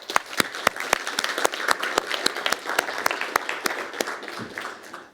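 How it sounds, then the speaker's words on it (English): A crowd at a hackathon event applauds steadily, dense clapping filling the whole stretch with sharp individual claps popping out above the wash. "please say a big applause to Lasse"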